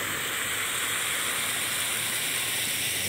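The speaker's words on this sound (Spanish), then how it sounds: "Ahí está el río Cañaveral Alejo" Rushing water of the Cañaveral river, a steady broadband roar with constant hiss and no breaks, close and moderately loud throughout.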